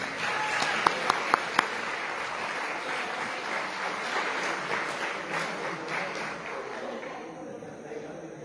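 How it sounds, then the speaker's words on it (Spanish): An audience at a school end-of-year graduation ceremony applauds steadily, a broad wash of clapping with a few sharp claps standing out early, fading slightly toward the end. "Fuerte el aplauso, Robert. Fuerte el aplauso."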